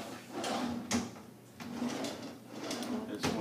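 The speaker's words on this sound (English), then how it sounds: "Nice big pull-out drawer right here." A big pull-out drawer under a stove slides open and shut several times, giving rolling scrapes and soft knocks at close range.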